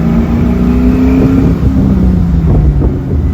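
A 1968 Chevrolet Camaro engine roars and revs hard as it accelerates, loud and close, a deep throaty rumble rising steadily throughout.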